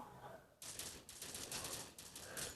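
Rapid automatic gunfire from the mobile shooter game Critical Ops, a dense continuous burst of shots after a brief quieter lead-in, loud and close with no talk over it.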